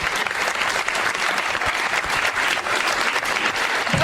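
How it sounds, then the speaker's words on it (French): A gala audience at the Miss Excellence Oise 2019 pageant applauds loudly and steadily, a dense continuous crowd clapping heard up close with no pauses. "Messieurs, dames, je pense que vous pouvez les applaudir très très fort."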